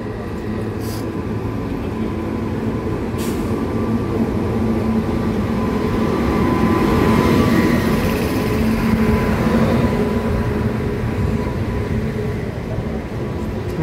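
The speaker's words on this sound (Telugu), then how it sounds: "సో ఫ్రెండ్స్, మా ట్రైన్ వచ్చేసింది" The Kondaveedu Express rolls into a station with a loud, continuous rumble and rattle that swells toward the middle and holds steady, with no talk over it.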